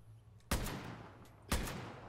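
Two sharp, heavy sniper rifle shots from the video game Far Cry New Dawn, exactly one second apart, each cracking out loud and close before a long decaying echo over a quiet background.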